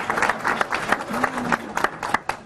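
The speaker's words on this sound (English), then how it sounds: "Can we have a round of applause for her?" Conference audience gives a brief round of applause, scattered clapping from a modest crowd with a short tonal sound in the middle.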